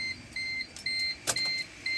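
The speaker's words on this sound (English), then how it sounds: "So why there is a sound? It is because of seat belt, I think so." A Maruti Ritz diesel car's seat belt warning chime sounds as a steady repeating beep pattern at regular intervals inside the cabin, with a few faint clicks and knocks in between.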